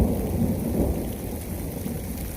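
Thunder rumbling heavily through steady rain during a thunderstorm on the Pacific Crest Trail, a deep sustained roll with dense rain noise, no voices.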